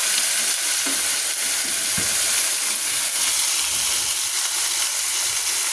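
A mung bean dish cooks in a hot pan with a loud, steady sizzling hiss up close, while a few soft knocks of stirring sound underneath.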